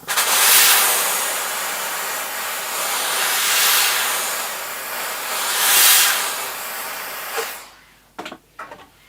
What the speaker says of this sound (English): I'm going to use some steam.